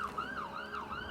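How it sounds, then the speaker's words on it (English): A police siren wailing in a steady rising-and-falling sweep, moderately loud with no talk over it. "I don't know if y'all can hear that siren"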